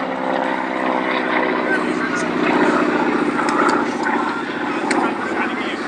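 A North American Harvard trainer aircraft flies past at an airshow, its propeller engine giving a steady, loud drone with a rough harmonic buzz throughout, with a voice talking over it.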